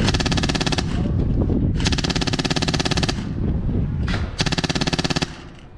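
Airsoft rifles firing in long rapid full-auto bursts during a milsim game, three loud sustained strings of fast mechanical shots with short pauses between them, close by.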